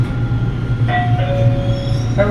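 An LRT 2 light rail train in Manila runs between stations, heard from inside as a loud steady rumble with thin metallic wheel squeals rising and fading, no talk.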